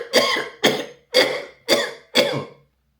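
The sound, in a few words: vigorous deliberate coughing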